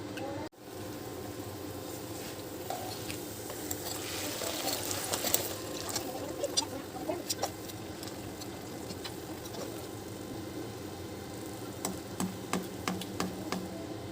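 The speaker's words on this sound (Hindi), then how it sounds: "अब हम ये एक एक करके नान तलेंगे।" Naan pieces fry one at a time in hot oil, giving a steady low sizzle with scattered crackles and sharper pops that grow more frequent toward the end, with no talking.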